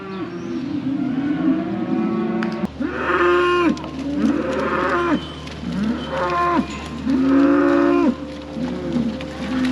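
Dairy cattle in corrals moo repeatedly, several long, loud, close calls in a steady sequence over a low background hum.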